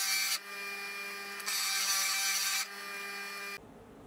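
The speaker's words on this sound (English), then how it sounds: "I'll place it up against a bench grinder" A bench grinder hums with a steady high whine while a tangential lathe tool is pressed against the wheel, the grinding rising and falling in louder rasping stretches before cutting off abruptly near the end.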